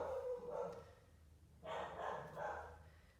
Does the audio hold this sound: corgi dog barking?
yes